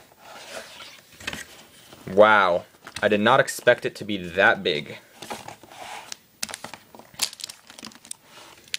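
Plastic packaging around a wired Apple keyboard crinkles and rustles in bursts as it is unwrapped close by, with a person speaking briefly between the crackles.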